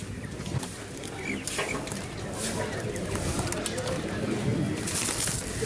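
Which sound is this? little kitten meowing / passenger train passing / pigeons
pigeons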